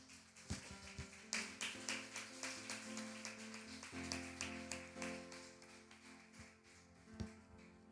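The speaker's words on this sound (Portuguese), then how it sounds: "Você pode aplaudir Jesus?" A church congregation claps for Jesus during a Wednesday service, with a steady stream of rhythmic handclaps over sustained background music and no talking.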